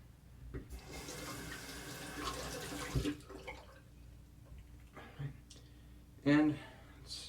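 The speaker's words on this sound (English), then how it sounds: "Whenever the blade gets full, go ahead and rinse it off." Tap water runs onto a shavette razor blade as it is rinsed at a sink, a hissing stream that flows steadily and then breaks off, with brief clinks and splashes while someone talks over it.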